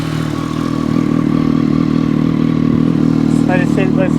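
A Triumph Daytona 765 Moto2 motorcycle engine idles close by in a steady, throbbing mid-pitched run, with a brief overlapping clatter of other sounds near the end.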